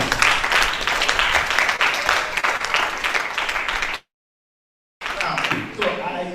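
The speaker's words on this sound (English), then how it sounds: "I think it serves another round of applause" A university project-writing workshop audience breaks into a round of applause, a steady wash of many hands clapping that cuts out abruptly for about a second of silence and then resumes.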